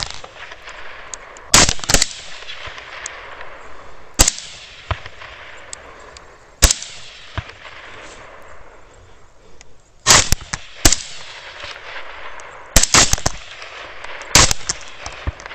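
Rifle gunshots fired at hogs during a nighttime hunt, sharp, loud cracks that come singly and in quick pairs, spaced irregularly over a low, ongoing background noise.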